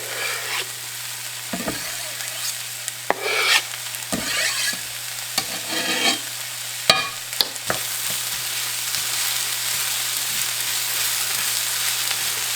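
Minced garlic sizzling in a frying pan with onions and celery, a steady soft crackle broken by several bursts of stirring and scraping, fairly faint and close with no talking.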